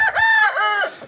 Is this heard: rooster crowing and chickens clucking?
yes